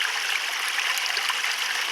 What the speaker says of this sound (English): I can see I'm still getting a little splash right in here